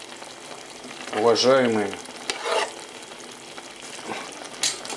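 Porcini mushrooms fry in a pan and are stirred after water goes in, giving a strong burst of sizzling and scraping. Someone speaks briefly at the start.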